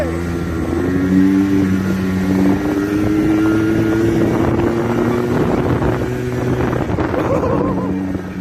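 Yamaha 90cc off-road buggy engine running steadily while driving, a loud continuous drone with shifting revs and wind buffeting throughout, with no pauses.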